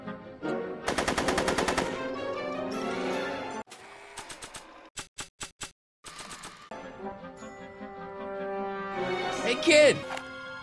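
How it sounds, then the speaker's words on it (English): Rapid bursts of automatic gunfire from the Back to the Future video game, loud, crackling volleys broken by short pauses and single shots, mixed with game music and character speech. "I'm finding it difficult to concentrate with all the bullets flying around my head, Mr. Callahan."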